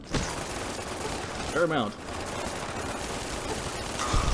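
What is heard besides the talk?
barrage of nails fired in Fallout New Vegas video game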